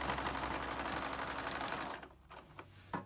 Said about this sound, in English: when you come to your sewing machine, you can just chain stitch them one right after another